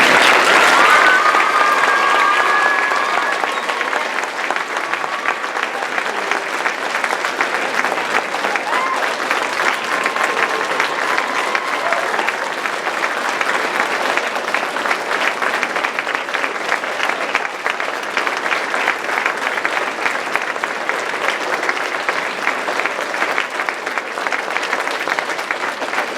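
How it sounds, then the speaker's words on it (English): Sustained audience applause at an evening performance, dense steady clapping from a large crowd that carries on evenly for nearly half a minute, loud and close. "Can you give a round of applause to Oskar?"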